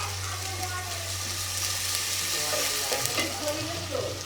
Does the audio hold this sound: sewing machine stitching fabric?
no